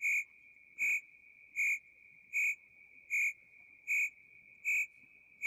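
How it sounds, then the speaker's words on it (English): Crickets chirp in a steady, evenly spaced series of about eight short, bright pulses, each a clear trill standing alone against a quiet background. "those crickets got in again"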